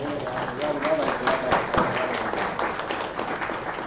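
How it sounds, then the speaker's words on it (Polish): Audience applause at a formal rescue-services ceremony, steady clapping from a hall full of people lasting throughout, with a voice speaking over it. "Dziękujemy, brawa."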